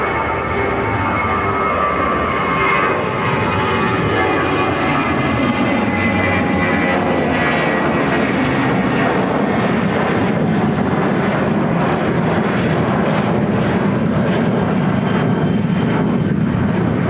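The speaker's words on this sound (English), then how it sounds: "This is United Airlines 786 taking off to Burlington on the A319" A United Airlines Airbus A319 takes off at Chicago O'Hare, a loud continuous jet roar with a slowly falling whine, heard alone without talk and swelling steadily toward the end.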